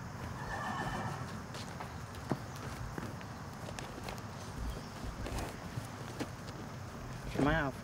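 Suffolk Punch horses at a college farm: hooves clop in an irregular walking rhythm amid voices, and a distinct whinny rises near the end, moderately close but fairly quiet overall.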